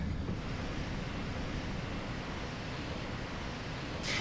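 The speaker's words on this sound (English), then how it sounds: "We're actually letting the water out of the ruins." Water draining out of flooded ruins in Dark Souls, a continuous broad rushing and roaring flow, loud and steady like surf, heard alone without talking.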